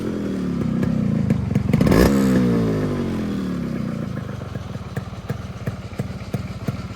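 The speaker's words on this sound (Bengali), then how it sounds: "আপনাদের জাস্ট একটু সাউন্ডটা চেক দেওয়ার জন্য গাড়িটি চালু করে শোনাই।" A Yamaha RX100 two-stroke motorcycle starts with a loud clattering burst, revs briefly, then settles into a close, rapid, uneven idle burble with no one speaking.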